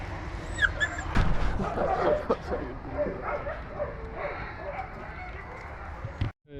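Husky puppies yip and bark in short bursts close by, mixed with scuffling and a voice in the background.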